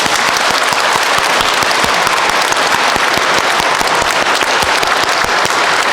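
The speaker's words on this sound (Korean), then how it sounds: "주임 신부님을 큰 박수로 모시겠습니다." Audience in a church applauding at a priest's ordination anniversary celebration after Mass, a dense, steady clapping that stays loud and even throughout with no voices over it.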